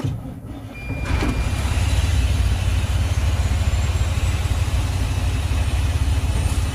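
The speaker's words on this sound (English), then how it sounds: "Let's get this thing fired up and have a listen to it." A 2007 Western Star 4900FA truck's engine runs at a loud, steady idle just after starting, a constant low rumble close by with a thin whine above it.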